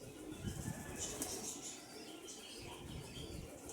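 Pigeons coo softly amid a burst of wing flapping, with a steady background hiss throughout.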